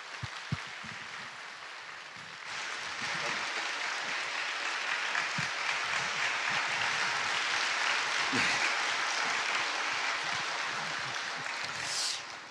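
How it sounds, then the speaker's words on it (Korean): A church congregation at a special early-morning prayer service breaks into a broad wash of applause to welcome a missionary speaker, swelling after a few scattered claps and holding steady before tapering off. "큰 박수와 할렐루야로 맞이하겠습니다"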